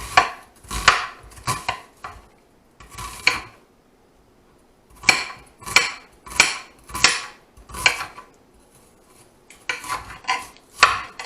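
A knife chopping onion and vegetables on a cutting board for veggie enchiladas and Spanish rice, bursts of quick, crisp close-up cuts separated by short pauses, no voices.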